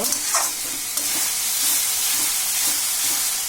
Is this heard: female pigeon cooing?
no